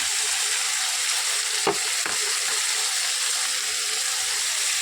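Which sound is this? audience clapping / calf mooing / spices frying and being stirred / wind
spices frying and being stirred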